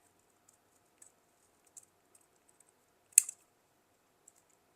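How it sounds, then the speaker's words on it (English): Scissors snip a small heart out of a sheet of paper, giving a few faint, sparse cuts followed by one sharper, louder snip. The room around them is otherwise almost silent. "So I'm going to cut out a small heart."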